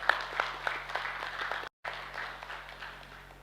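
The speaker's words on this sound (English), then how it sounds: "Can I request you all to give a big round of applause to my committee." An audience at an annual general meeting gives the committee soft, distant applause with a brief dropout midway, fairly quiet throughout.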